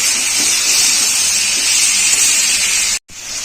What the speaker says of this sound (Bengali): এবার টমেটোটা দিয়ে দিলাম, দিয়ে আর একটু ভাজবো